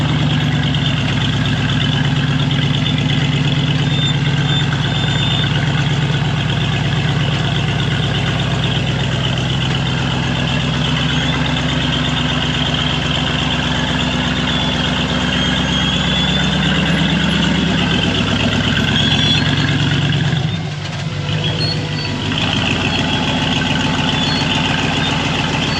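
An off-road buggy engine runs steadily through a test climb up a steep wall, a loud, close, rough drone that dips briefly near the end and then carries on.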